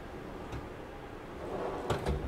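A pull-out pharmacy cabinet in the kitchen of a Fendt Bianco 465 SGE caravan slides and knocks, with faint rubbing, then two sharp close clacks near the end, no speech over it.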